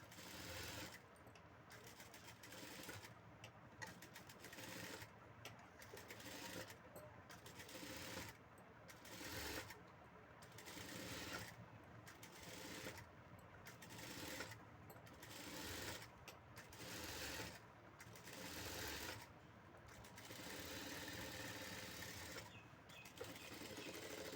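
A sewing machine stitches the lining fabric of a blouse, its steady mechanical whir running close and loud in long runs broken by short pauses, without any talking.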